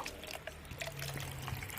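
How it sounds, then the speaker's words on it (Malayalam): Water poured into a container for a water plant, a soft continuous trickle and splash running steadily through the moment, close and fairly quiet, with no voices. "ഇതിനകത്ത് ജസ്റ്റ് നമ്മളതിനകത്ത് ഇതുപോലെ വെള്ളം ഒഴിച്ച് കൊടുക്കുക"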